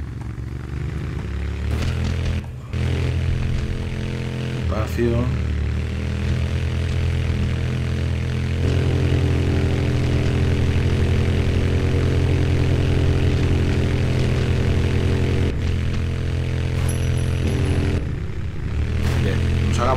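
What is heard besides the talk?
motorcycle engine in the video game Tomb Raider Underworld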